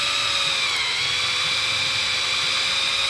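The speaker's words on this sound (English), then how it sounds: "So you just take a 1/8 drill bit, drill exactly down through the center." 1/8 inch bit in a power drill boring down through a snap piece clamped in a vise, a steady high whine with a constant pitch that holds loud and unbroken throughout.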